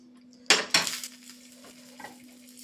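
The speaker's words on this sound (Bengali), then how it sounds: "একটু নাড়াচাড়া করে পুরো কড়াটা তেলটা মাখিয়ে নেব আমি।" A metal spoon clanks twice against a kadai (wok) while oil is swirled around it to prepare for frying grass carp fish, followed by lighter scraping and a faint clink over a steady low hum.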